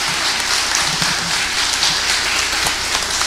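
Applause from the audience at a Dominican social protection program launch event, dense steady clapping like heavy rain, loud and sustained throughout with no talk.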